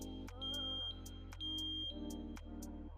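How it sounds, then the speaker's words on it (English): A Sensereo MS-1 Interlink smart smoke alarm sounds with a rapid repeating pattern of loud, shrill electronic beeps layered over a steady tone, continuous and close. "When one alarm detects smoke, connected alarms can sound together."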